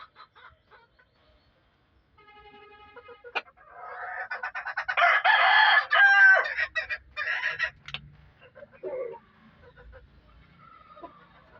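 A rooster crows loudly in one long, harsh call, with softer clucking and fowl noises before and after.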